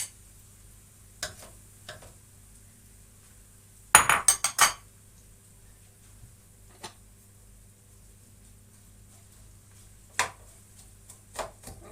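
A spoon clinks and scrapes against a pan while stirring onions in a short flurry, with a few scattered taps around it over a steady low hum.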